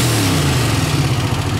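Honda CX500 motorcycle engine revving hard and pulling under throttle, a steady loud mid-pitched drone that rises and holds without cutting out, close to the microphone.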